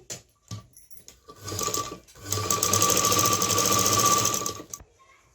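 A sewing machine stitches a blouse piece in short bursts, then runs in a longer continuous whirring, rattling stretch before stopping, close and fairly quiet.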